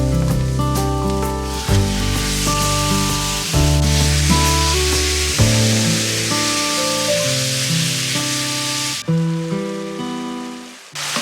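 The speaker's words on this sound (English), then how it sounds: "Now we're going to add in a pound of ground beef." Ground beef, a pound of it, frying in a pan with onion, crackling and sizzling steadily up close for several seconds while music plays softly underneath.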